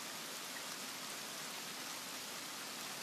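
Constant rainfall in the survival game The Forest fills the scene with an even, unbroken patter and hiss, moderately loud and with nothing else audible.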